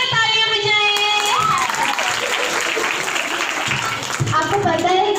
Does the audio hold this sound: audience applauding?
yes